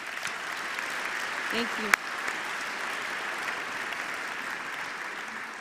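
Audience applause fills the room at a marine conservation congress opening ceremony, a steady wash of many hands clapping throughout, moderately loud, with a brief spoken thank-you from the stage partway through.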